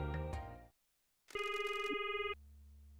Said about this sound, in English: we should phone Mr. Sato.